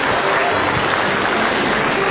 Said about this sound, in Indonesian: tepuk tangan untuk Narji.